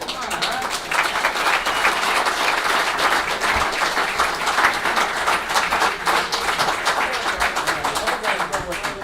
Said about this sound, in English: Let's give the biggest round of applause to Lois